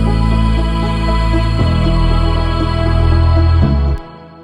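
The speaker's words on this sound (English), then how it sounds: "Then all of those synths together sound like this." Several synth layers sound together as one loud, sustained wall of chords, shifting harmony twice before cutting off abruptly near the end, leaving only a faint tail.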